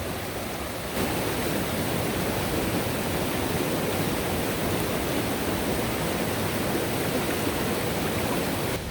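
Loud, steady rush of a flowing mountain stream near Guanella Pass, Georgetown, Colorado, a dense unbroken roar that starts abruptly after a quiet second and continues without talk.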